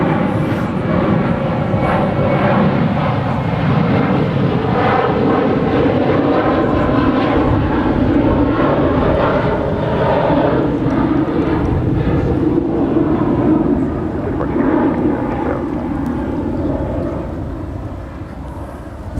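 A jet airliner roars on departure at Dallas-Fort Worth International Airport, a loud, sustained engine rumble and whine that holds steady for the whole stretch, heard from the ground without any talk.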